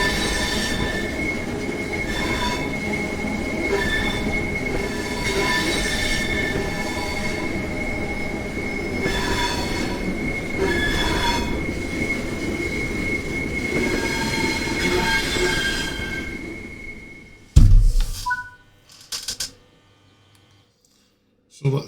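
A train in Train Simulator slows down with a long, steady metallic wheel squeal over a rumbling run, fading out before a few sharp clicks and a near silence at the end.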